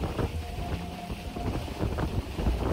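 Boat moving fast through open water in a rainforest, with rushing wind buffeting the microphone and a rumbling hull noise, close and continuous.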